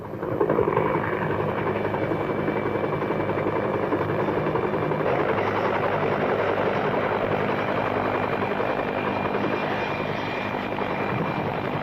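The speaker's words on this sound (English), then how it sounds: "A helicopter over Buckingham Palace on a summer morning." A helicopter flies over Buckingham Palace on a summer morning, its rotor chop and engine whine loud and steady for the whole stretch, with no talk over it.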